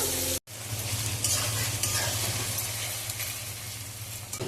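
Onions frying in a pan for an Odia-style mutton curry, a steady close sizzle with stirring scrapes after a brief cut at the start, continuous and fairly loud without talk.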